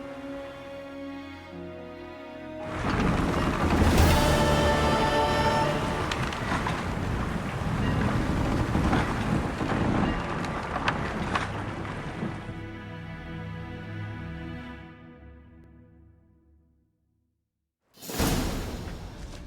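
A sailing boat crossing open sea in The Witcher 3, with rushing wind and water swelling loud and steady for several seconds, then fading nearly to silence before a sudden burst returns.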